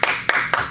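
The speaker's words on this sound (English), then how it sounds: "Let's give the Lord a big clap and a big shout." Three sharp, evenly spaced claps ring out in a church congregation, each a crisp broadband slap, fairly close and loud, with no talk over them.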